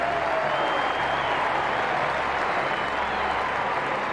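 A packed MCG crowd roars and applauds after a goal in a 1999 AFL match between Melbourne and Essendon, a loud, steady wash of cheering and clapping lasting throughout.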